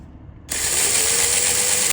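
A Torx 30 bit backs out a bolt holding the air compressor to its cradle on a BMW F15 X5, a loud, close mechanical whir and ratchet that runs steadily for about a second and a half and then stops abruptly.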